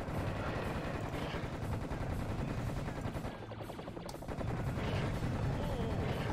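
Rapid, dense gunfire from a newly picked-up weapon in the Serious Sam: The First Encounter shooter, sustained bursts loud and continuous throughout with a brief dip midway.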